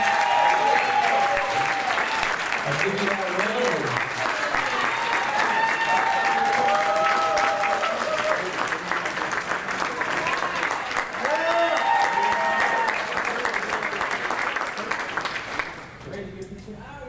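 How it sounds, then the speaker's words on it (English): Sustained audience applause at a Plexus Worldwide corporate event in Clinton, Maryland, as a coach comes up, steady and fairly loud throughout, with someone speaking over it before it fades near the end. "let's give you a round of applause"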